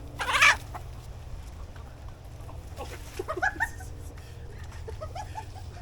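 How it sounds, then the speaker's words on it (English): Chickens cluck and squawk over banana peels thrown among them at a banana harvest, a loud burst of squabbling calls near the start and scattered clucks afterward over a low background hum. "Chicken trying to kill a chicken."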